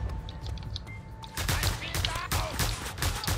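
Rapid gunfire from the open-world action game Just Cause 2, a dense fusillade of overlapping shots that grows louder and more continuous after a quieter opening, with game sound effects mixed in.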